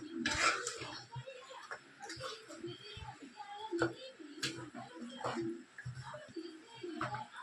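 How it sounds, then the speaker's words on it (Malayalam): Chicken curry being stirred in a pot, with a spoon scraping and clinking against the metal in irregular bursts, close and moderately quiet, with faint background sounds. "നന്നായിട്ട് ഇളക്കി കൊടുക്കണം"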